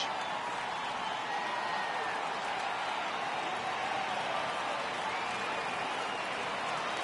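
A baseball stadium crowd in a video game rises and cheers on a full 3-2 count, a broad, steady roar of many voices with some applause running underneath for the whole stretch.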